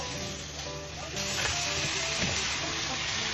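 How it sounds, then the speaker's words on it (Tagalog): Onion and beef sizzle steadily in a pan on an induction cooker, a continuous close frying hiss with faint stirring scrapes, growing slightly louder partway through. "nagisa lang ako ng sibuyas at inilagay ko na nga rin itong beef"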